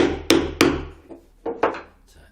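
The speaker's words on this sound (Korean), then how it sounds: "그래 놓고 망치로 잘 잡고" A hammer taps wooden dog toy pieces together, giving five or six sharp, close knocks, with two quick strong hits first, then lighter taps.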